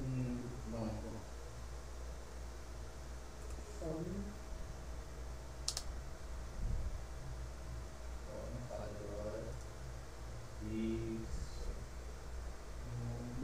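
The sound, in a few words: typing on a computer keyboard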